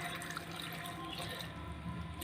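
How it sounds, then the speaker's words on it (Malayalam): Half a glass of water poured into a pressure cooker holding churakka (bottle gourd) for a shake, a faint, steady watery splashing rush throughout. "ഇതിലേക്ക് നമുക്ക് 1/2 ഗ്ലാസ് വെള്ളം ഒഴിച്ചു കൊടുക്കാം."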